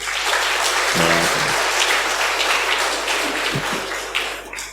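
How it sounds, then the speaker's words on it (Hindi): Audience applause at a talk on healthy, happy living, a broad steady wash of clapping that fills the whole stretch at a loud, even level, with no voices over it. "ताली बजाइए अपने लिए जोर से"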